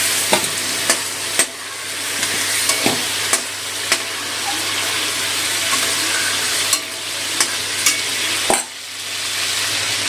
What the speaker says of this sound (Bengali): এই তেলে ফোড়নে দিয়ে দিলাম 7 চামচ মতো কালো জিরে